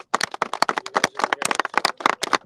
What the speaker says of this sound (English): So I would like to ask for a round of applause to Congressman Smith.